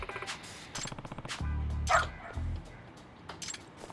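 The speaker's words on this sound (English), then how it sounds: "But this dog is so cute though." A cute dog in the video game Lost Judgment gives a few quick yipping barks, with bursts of game sound and music around it, close and moderately loud.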